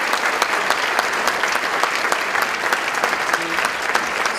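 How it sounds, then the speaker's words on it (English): A concert audience gives a big round of applause as a choir leaves the stage, dense continuous clapping that stays full and even for several seconds with no voices on top. "we're just going to give them a big round of applause as they leave the stage"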